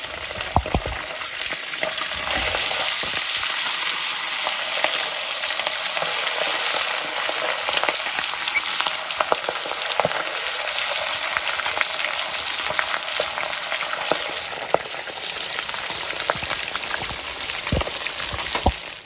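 Fish pieces frying in hot oil until crisp for an old-style Kashmiri fish recipe, giving a loud, steady, close sizzle that crackles continuously throughout with no talking.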